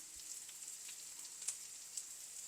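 Bitter gourd sizzling in a pan with turmeric powder, a soft steady hiss of frying with a couple of small pops, faint and close, with no voices.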